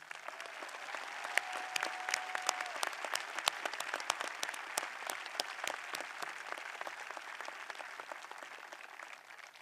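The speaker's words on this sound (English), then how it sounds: "let's give them a round of applause" Sustained applause from the audience at a 2021 high school commencement, a dense crackle of many hands with sharp individual claps standing out, steady for nearly ten seconds.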